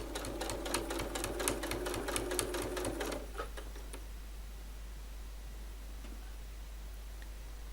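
A sewing machine stitches the faced binding on an art quilt, a rapid, steady mechanical chatter for about three seconds that then stops, leaving faint room noise.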